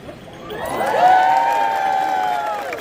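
Crowd cheering and applauding at a Renaissance festival show, a rising swell of shouts, whoops and claps with children's voices, loud and sustained.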